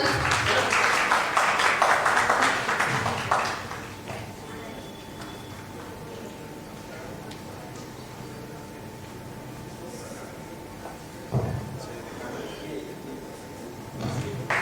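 Audience at a corporate rewards and recognition ceremony gives a round of applause, a burst of dense clapping for about four seconds that fades into quieter room noise, with a short spatter of claps returning near the end.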